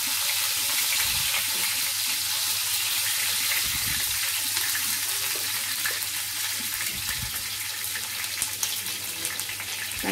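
Chopped garlic fries in hot oil for egg bhurji, giving a steady, loud hiss and crackle that runs throughout with no talking.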